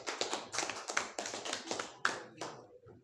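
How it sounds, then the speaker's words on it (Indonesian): A seventh-grade class claps for classmates in a lesson, a short burst of uneven, fairly close hand claps with a few distinct louder slaps, dying out after about three seconds. "Beri tepuk tangan yang meriah dong."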